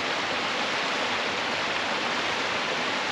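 Waterfall in the Cheviot Hills, Northumberland, heard as a constant loud broadband rush of falling water, steady throughout with no voices.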